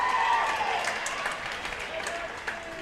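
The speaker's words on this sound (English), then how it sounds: "Big applause for Jackie as she goes out to help clean up on the floor there." Crowd applause in a gym during a girls' basketball game between Evanston and Natrona County, a steady wash of clapping with crowd noise and a commentator's voice layered over it.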